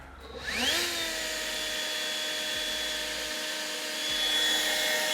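Small battery leaf blower switched on, its motor whine spinning up quickly to a steady high-pitched hum with rushing air, running close and constant.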